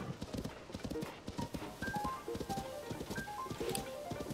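Horses clip-clop in the Zelda: Tears of the Kingdom video game, a quiet, steady patter of hooves with a faint whinny, heard alone at low volume.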